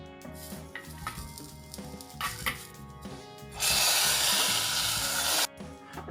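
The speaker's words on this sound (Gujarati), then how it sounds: "આપણે હવે વઘાર કરવા મૂકીશું" Spice tempering (vaghar) for Kathiyawadi kadhi: after a stretch of soft tonal music with a few clinks, a sudden loud, hissing burst of hot-oil sizzle lasts about two seconds, then stops abruptly.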